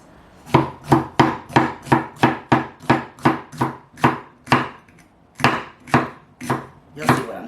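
A knife chops jalapeno peppers on a cutting board in a fast, even run of about twenty crisp thuds, close and clear, with one brief pause partway through and no talking.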